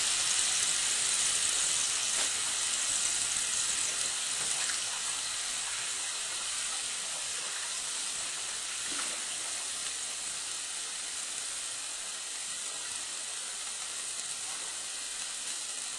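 Meat coated in a Saki ginger marinade sizzles steadily in a hot pan, a continuous bright hiss that stays fairly even and close throughout, with no voices.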